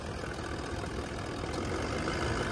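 A Toyota Land Cruiser LC200 diesel V8 engine idles steadily up close, a dense, even clatter and rumble with no change in pitch.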